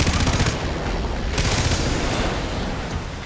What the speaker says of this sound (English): I gotta shoot the pipes!